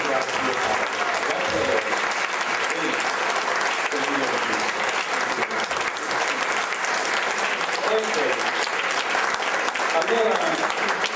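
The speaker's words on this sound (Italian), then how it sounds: "un applauso, grazie." Sustained applause from diners at a club's twentieth-anniversary dinner and awards evening, steady and dense for the whole stretch, with a few voices murmuring underneath.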